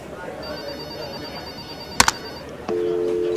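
An incoming call rings on a phone during a comedic scene about a hired killer, a short double electronic chirp followed by a steady ringtone tone, fairly loud over quiet room noise.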